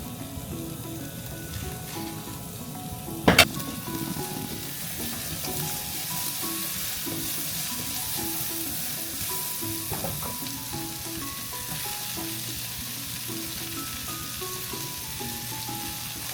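Food stir-frying in a pan before noodles go in, a steady loud sizzle running throughout, broken once early by a sharp utensil clatter against the pan.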